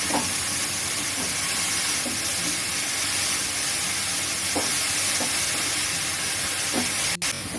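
Grated coconut and chopped radish fry in a pan as chopped radish greens go in for a Bengali mulo shak bhaja. A loud, steady frying hiss fills the whole stretch, with a few soft clicks and a sharp knock near the end.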